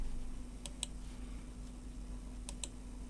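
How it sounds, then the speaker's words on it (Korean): A computer mouse being clicked twice in quick succession, then another quick double click a couple of seconds later, crisp and close against a quiet background hum. "클릭 한 번 더 클릭"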